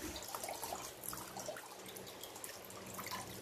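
Water drains out of an orchid pot in a semi-hydro setup, a faint, steady trickle and dripping close by, with no voices.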